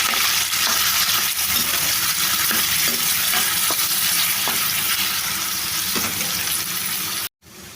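Mutton pieces frying in a pan for pickle, a dense, loud sizzle throughout with occasional light metallic taps, briefly dropping out just before the end.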